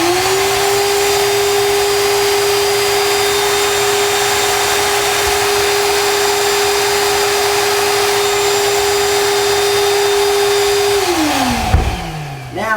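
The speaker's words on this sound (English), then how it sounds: "I've got this hooked up as a vacuum right now, and I'm going to vacuum that first spot there" A shop vac running as a vacuum drones steadily and loudly with a constant motor whine for about eleven seconds, then spins down near the end.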